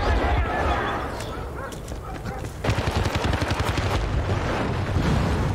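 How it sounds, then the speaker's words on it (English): Rapid automatic gunfire rattles in the shooter game Oasis, with dense bursts of shots under and between a player's talk. "Where are all these shots going?"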